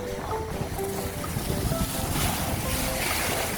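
Ocean surf rolling in along a shoreline where people are fishing, a steady continuous wash of waves with wind noise on the microphone and no clear voices.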